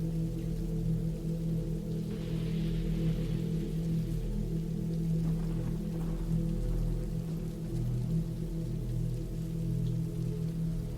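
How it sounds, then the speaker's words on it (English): Rain patters against a tent in the woods at night, a soft steady wash of drops with a low constant rumble underneath, faint and even throughout, with no voices. "the constant pitter-patter of rain against the tent"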